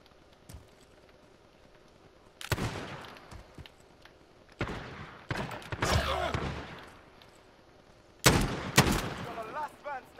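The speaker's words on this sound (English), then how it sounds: "And a shotgun kill!" Shotgun blasts in Call of Duty Modern Warfare during a GunFight tournament match, three loud, sharp bursts with short echoing tails separated by quieter gaps, mixed with game sounds.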